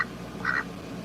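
A single short duck quack sounds once, moderately clear against a quiet background.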